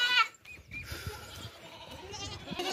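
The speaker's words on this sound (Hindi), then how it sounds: "ऊंची लंबी बड़ी बकरी है, साफ़ सुथरी बच्चे वाली" A tall, large, clean desi female goat with a kid bleats in a high, wavering call at the start, with other farm animal noise and low rustling continuing underneath.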